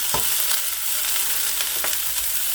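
Lamb stir fry sizzles steadily in a hot pan as onions and capsicum are added, a dense close frying hiss with a few soft clacks and stirring knocks, no voices.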